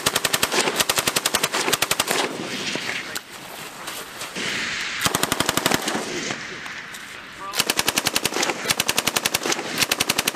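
.50 caliber heavy machine gun firing during a military exercise at Camp Fuji, rapid sustained bursts of loud, sharp reports separated by short pauses, with shouted voices over the gunfire.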